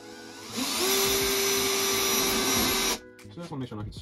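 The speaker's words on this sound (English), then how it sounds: "I'm not going to stab anything as the drill bit goes in" A power drill boring a hole in a 100 Series Toyota Land Cruiser body for a snorkel install, a steady loud whine lasting over two seconds with a held tone, then stopping abruptly into quieter handling noise.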